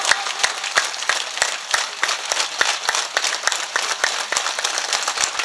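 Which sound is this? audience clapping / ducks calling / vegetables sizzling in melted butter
audience clapping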